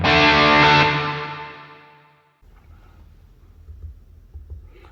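An electric guitar played through a Quad Cortex room reverb with the delay turned up: one bright, loud chord rings out and fades over about two seconds, followed by a quiet, low, rumbling tail with no talking.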